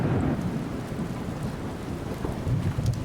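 Heavy rain pours in a video game, with a deep, rolling rumble of thunder running underneath the dense, steady hiss throughout.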